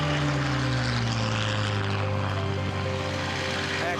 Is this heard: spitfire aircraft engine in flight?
yes